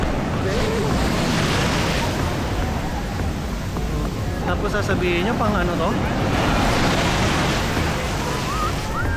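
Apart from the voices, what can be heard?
ocean waves at a surf spot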